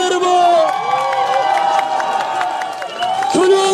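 A large outdoor political rally crowd cheers and applauds loudly, with dense clapping, shouts and whoops blending into a continuous roar.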